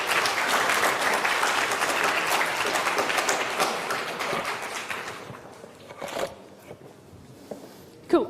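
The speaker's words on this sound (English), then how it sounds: "Very small round of applause" A small round of applause fills a lecture hall, a dense patter of clapping from a modest crowd that holds steady for about five seconds, then thins out to a few scattered claps and shuffling.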